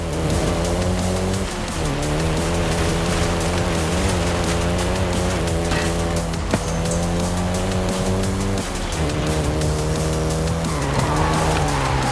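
A Volkswagen Golf GTI in Forza Horizon 5 roars loud and close with a sustained engine drone, shifting pitch through gear changes while tyres squeal and skid throughout.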